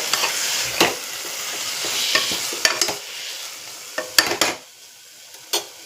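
Spoon stirring mint leaves into vada curry in a frying pan, scraping and clinking against the pan in irregular strokes over a soft steady sizzle.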